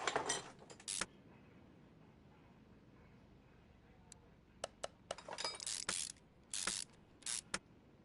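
Tie rods, inner and outer, are fitted onto a Dodge Ram 1500 in Car Mechanic Simulator 2021, giving a scattered series of short metallic clicks and clinks, some in quick clusters, over a quiet background.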